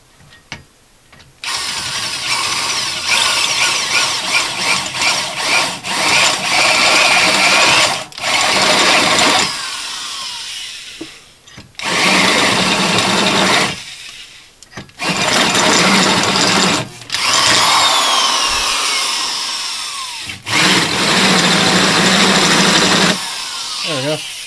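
An old Milwaukee high-torque power drill runs in loud bursts, revving and whining for several seconds at a time with short pauses between, close by in a garage during engine mount work on a 4WD car.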